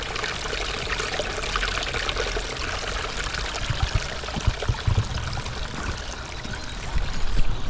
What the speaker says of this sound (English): Little waterfall, nice little spillway.